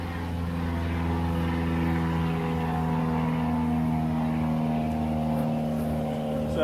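A propeller airplane drones overhead above a beehive being inspected outdoors, a steady low engine hum that holds evenly throughout with no voices.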